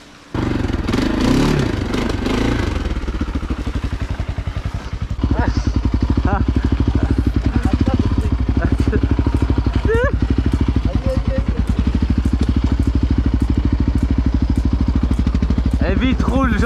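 Quad bike engine idling and revving steadily as it drives through a river, a loud continuous mid-range drone with clattering, splashy texture throughout, and voices talking over it.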